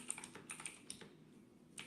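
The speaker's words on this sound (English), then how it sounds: "What are you typing?" Quick, faint clicking keystrokes on a keyboard in a TV drama scene, an uneven run of taps with a short pause before a final key press.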